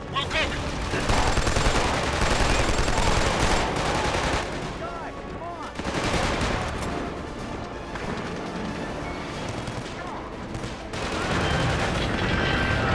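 Gunfire in the video game Killzone 2, rapid automatic bursts and scattered single shots crackling through a chaotic battle for about thirteen seconds, with brief pauses and shouted voices between volleys.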